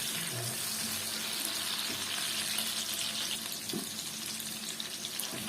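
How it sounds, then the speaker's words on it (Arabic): Peppers sautéing in ghee in a pan, a steady close sizzle and crackle running throughout with a few soft stirring clatters, no talk. "خلاص كده خدوا تشويحه كده مع السمنه"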